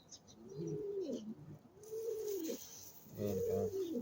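A pigeon, a foundation cock in a breeder's loft, coos in three rounded, rolling phrases, close and clear, with faint higher chirps in the background.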